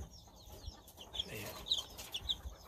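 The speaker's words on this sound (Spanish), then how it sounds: "Miren qué pollito más bello" Soft, high-pitched peeps from a chick recur a few times, with faint farmyard clucking and a low, muffled background.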